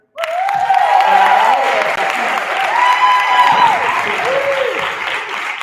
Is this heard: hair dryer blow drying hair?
no